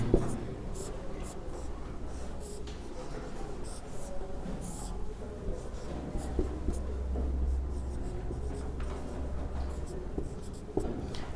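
Marker or chalk writing on a board as an electrical circuit diagram is drawn, a steady run of short scratchy strokes over a low room hum, with faint speech in the background.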